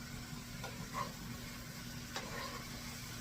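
Onion being stirred into a pan of sizzling vegetables for an open-faced turkey sandwich dinner, a steady low frying hiss with a few soft scraping strokes of the spoon, close and fairly quiet.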